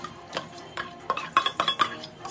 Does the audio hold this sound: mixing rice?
yes